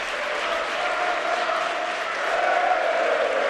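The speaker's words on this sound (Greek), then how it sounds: "Ακούμε χειροκροτήματα" Sustained, dense applause from a crowd in a handball arena during the award ceremony of a cup final, steady and loud throughout, with a slight swell near the end.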